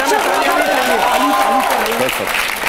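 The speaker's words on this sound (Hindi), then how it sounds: "बजा दो यार ताली इनके लिए" Studio audience applause in a TV news debate studio, a dense steady wash of clapping running loud and continuous throughout, with voices mixed in underneath.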